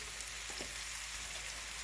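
Cornbread batter sizzles and crackles steadily in hot oil in a small frying pan, a constant frying hiss with a few soft pops, and no voices.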